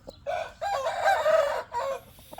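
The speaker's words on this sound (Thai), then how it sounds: "เป็นไก่งามครับ เป็นไก่สวยน่าน่าผสมมากครับ" A rooster of a good-looking breeding line crows once outdoors, a clear, loud cock-a-doodle-doo with a short pause and a final rising note, with no one talking.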